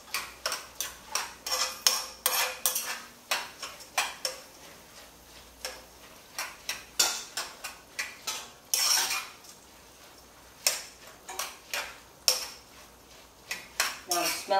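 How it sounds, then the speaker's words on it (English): Sofrito with black pepper stirred in a pot, rapid repeated metallic taps and scrapes of a spoon against the pot in quick bursts with short pauses, close and with no talking. "Now I'm adding my black pepper. Now I'm gonna stir it again."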